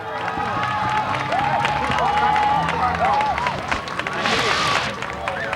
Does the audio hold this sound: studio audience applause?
yes